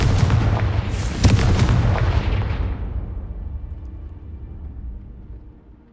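A Confringo spell in Hogwarts Legacy sets off a loud booming burst with sharp cracks on top, and the blast rumbles on and slowly fades away over several seconds.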